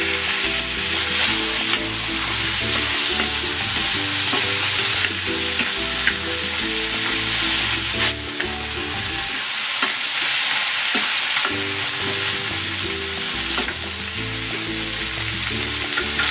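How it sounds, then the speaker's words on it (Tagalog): Chicken marinated in salt and pepper fries in a pan with onions, giving a loud, continuous sizzle with repeated scraping and stirring strokes throughout. "Sasalang ko na itong chicken. Ito ay binabad ko na sa asin at paminta para may lasa na."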